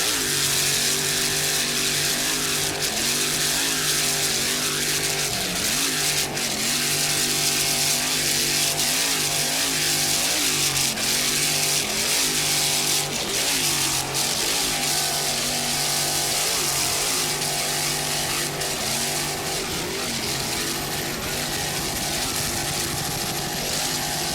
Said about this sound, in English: Just listen to that Frank's Marine inboard, 700 horsepower.